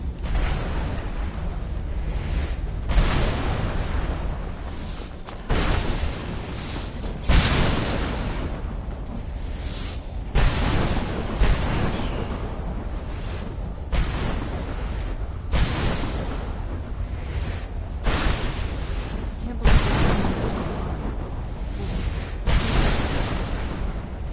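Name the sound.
explosions from a weapon in the video game Skyrim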